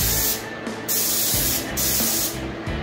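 Primer sprayed over red Bondo filler on a car body, three loud hissing bursts from a close spray gun with short pauses between passes.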